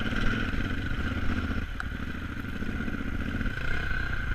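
A KTM 950 Adventure motorcycle engine drones steadily while riding off-road at Taylor Park, Colorado, a continuous close mid-pitched hum with faint clatter and no speech.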